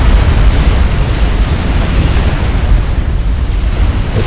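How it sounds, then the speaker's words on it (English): Video game explosion as a commander unit blows up in a battle near a beach, heard as a dense, loud burst of rumbling noise that holds for several seconds without speech. "My commander just blew up."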